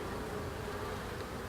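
Honeybees buzz steadily inside an open beehive with healthy brood and fresh comb, a dense, continuous close-up hum from many insects with no talk.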